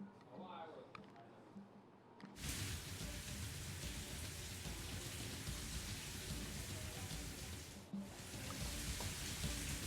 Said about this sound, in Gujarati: કમોસમી વરસાદ કચ્છના મુખ્ય મથક ભુજમાં પડ્યો છે